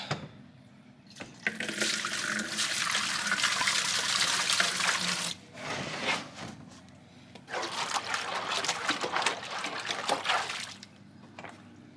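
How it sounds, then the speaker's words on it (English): Water pours out of a fridge's drain plug in two long bursts of steady splashing and trickling, a brief pause between them, close and fairly loud with no talking. "It's a good place to drain my water"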